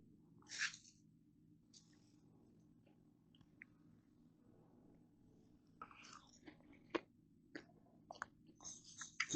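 Crispy shawarma kale chips are bitten and chewed in a quiet room, with one early crunch, then a cluster of faint crackling bites and chews near the end.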